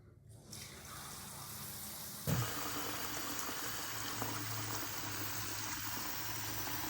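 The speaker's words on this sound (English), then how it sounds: "Importantly, make sure you fill your pot such that the water level is 1 inch above the top of your eggs." Room-temperature tap water runs steadily into a cooking pot holding eggs, a continuous close splashing stream that starts abruptly and keeps flowing at an even level without talk.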